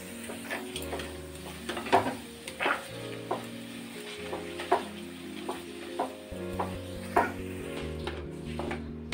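Caramelized sugar with milk in a pan, stirred after the gas is turned off, makes repeated rhythmic scraping and tapping strokes over a low bubbling hiss, and no one talks.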